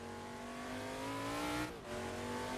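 McLaren M8C race car engine in a VR racing game at Laguna Seca, revving high and climbing steadily, then a brief dip at a gear change before the roar resumes, loud and close.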